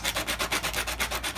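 A Rubik's-style puzzle cube being modded is rubbed back and forth across sandpaper by hand, making a quick, even rasping rhythm of about ten close strokes.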